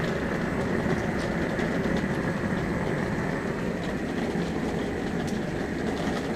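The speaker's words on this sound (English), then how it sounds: "Now this is a weed burner, plain old everyday Harbor Freight weed burner." Harbor Freight weed burner torch running to anneal steel, a loud, steady roaring rush of flame that holds constant throughout.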